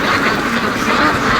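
Several ducks quack steadily and loudly at close range beside a creek on a free-range farm, a dense continuous chorus with no talk.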